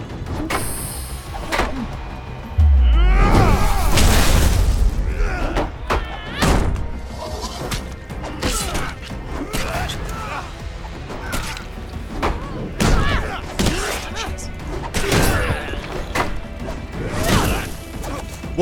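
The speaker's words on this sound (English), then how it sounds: "now when I equip Malekith's, his shield explodes now" Malekith's shield explodes in the video game Hand of Fate 2, a loud smashing burst followed by a string of sharp thuds and whacks from combat, with game music and effects continuing throughout.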